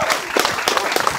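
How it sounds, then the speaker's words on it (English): An audience at the Doctor Strange show at Hollywood Studios breaks into loud, dense applause, many hands clapping close and continuously with no talk over it. "we have a round of applause for our new students of the Mystic Arts."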